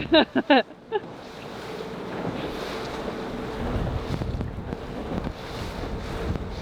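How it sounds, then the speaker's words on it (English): Wind roars continuously across the microphone on a boat, with a rushing, gusty texture, after a few brief loud thumps at the start. "The wind is up."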